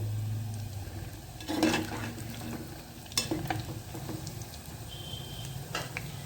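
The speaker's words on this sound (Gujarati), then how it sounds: "આવી રીતે આપણે મુઠિયા બધા તળી લેવાના છે" Muthiya dumplings made with hyacinth beans and fenugreek frying in oil, a soft continuous sizzle with occasional stirring clatters and utensil knocks, close by and fairly quiet.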